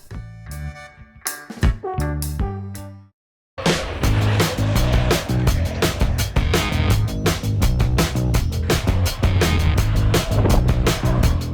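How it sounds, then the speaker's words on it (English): A Mongoose PT26 dirt jump bike ridden over a pump track, a continuous rough rolling rumble of knobby tires on packed dirt with rattling bumps, loud and close, preceded by a brief musical intro. "Let's take this bike to the pump track and see how it handles."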